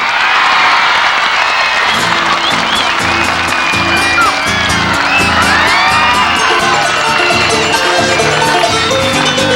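A large concert crowd applauds and cheers loudly for a Bolivian folk band, steady clapping mixed with whoops and shouts throughout.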